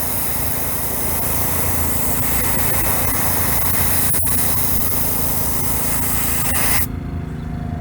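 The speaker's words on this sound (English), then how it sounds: "this speed, with this airbrush, with this pressure, this is how fast I need to go without creating a run" Airbrush spraying House of Kolors paint in steady passes, a close, continuous hissing spray with a faint compressor hum beneath that cuts off abruptly near the end, with no voices.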